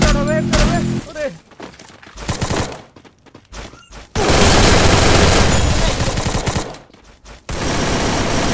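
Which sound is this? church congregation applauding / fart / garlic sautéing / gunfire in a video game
gunfire in a video game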